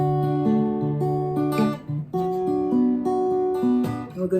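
A Gibson L1 acoustic guitar strums a chord progression, clear sustained chords changing every half second or so, close and moderately loud with no talking.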